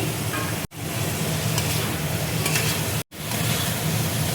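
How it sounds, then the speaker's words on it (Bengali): Tomato, capsicum and cubed onion stir-fry in a pan with a dense, loud continuous sizzle and stirring, broken by two brief drops to silence. "এবার টমেটো দিয়ে দিচ্ছি, ক্যাপসিকাম দিয়ে দিচ্ছি, কিউব করা পেঁয়াজ দিয়ে দিচ্ছি।"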